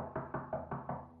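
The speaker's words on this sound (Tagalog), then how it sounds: "Ilang sandali pang lumipas nang may kumatok na naman." Five quick knocks on a door, evenly spaced and moderately close, ringing slightly woody with no one speaking.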